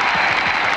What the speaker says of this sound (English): Another standing ovation for Scott.